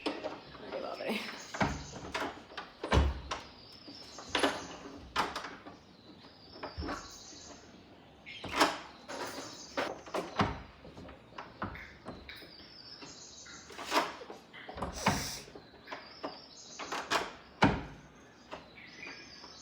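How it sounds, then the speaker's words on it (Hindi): Someone tries to open a stuck door, producing repeated sharp rattles, clunks and knocks at an irregular pace for about twenty seconds, with faint voice sounds in the background. "दरवाज़ा नहीं खुल रहा गाइस, आज मैं यहीं रहूँगी बाहर।"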